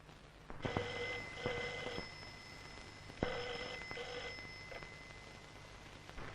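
An old-fashioned telephone bell rings in a quiet room at night, two double bursts of ringing separated by a pause, fairly clear against a faint hum, with no one speaking.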